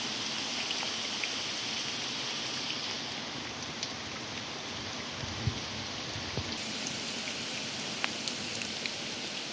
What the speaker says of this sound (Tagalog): Naabot tayo ng ulan.